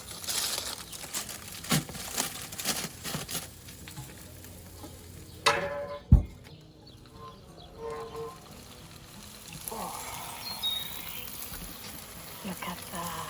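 Tandoori chicken and potatoes cooking on a barbecue grill, with soft sizzling, scattered clinks and handling noises. A sharp knock lands midway, and a voice talks over parts of it.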